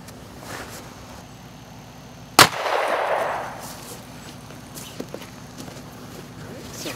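A single sharp 9mm pistol shot firing a Hornady Critical Defense 115-grain round in a backyard ballistics test, one loud crack followed by a short rumbling decay, outdoors over steady low background noise.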